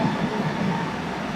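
A metro train rumbles past as it pulls in, a steady, close, heavy low roar with no voices over it.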